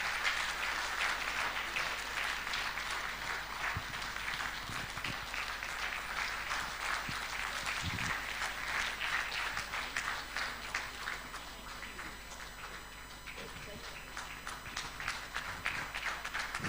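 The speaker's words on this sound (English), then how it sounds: "giving her a deserving round of applause and a standing ovation" A large audience at a roundtable conference gives a standing ovation, dense continuous applause sustained throughout at an even, moderately distant level with no clear speech over it.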